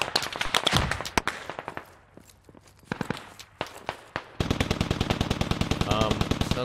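Heavy automatic gunfire from a 14.5 cannon in the video game Squad in short, rapid bursts, then a sustained stream of fast, evenly spaced shots, loud and close.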